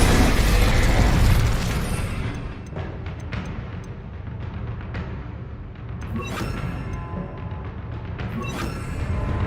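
An Incendio fire spell cast in Hogwarts Legacy, a loud roaring whoosh with booming bursts and crackling impacts that swell, ease off, then flare up again in a second wave.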